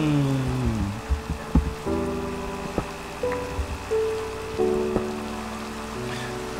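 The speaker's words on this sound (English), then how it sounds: "It's raining." Rain falling in the video game Minecraft: a steady hiss of rainfall under a low tonal game backdrop, with a few soft sharp taps scattered through, and no one speaking.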